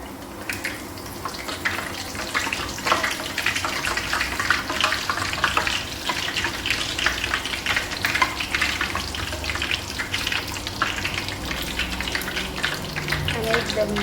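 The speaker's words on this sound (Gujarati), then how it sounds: "કઈ આપણે નાખી દીધી છે જીરાપુરી તળવા માટે." Jeera puri, cumin-flavoured fried bread, deep-frying in hot oil gives a steady crackling sizzle that runs the whole way through, with clattering kitchen sounds and occasional talk in the background.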